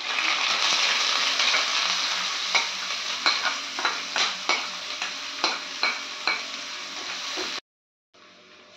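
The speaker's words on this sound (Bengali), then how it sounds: "এখানে পেঁয়াজটা ভাজা হয়ে গেছে।" Chopped onion frying in a pan with a little whole cumin, a steady close sizzle with a series of sharp scraping stirs, then a sudden cut to near silence near the end.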